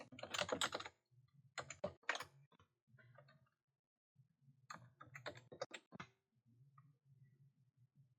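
Bursts of quick keystrokes on a computer keyboard while entering an employee's address into business software, clattering in short runs separated by pauses against a faint low hum, close and quiet with no talk.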